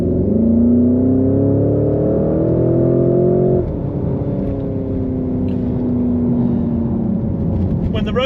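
Porsche Cayenne SUV engine accelerating hard, a loud sustained rising drone with one gear change partway, holding strong to the end.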